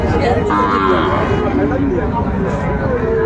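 A Sahiwal cross bull calf at a cattle market bellows in a long, low moo close by, with people bargaining and talking over and around it.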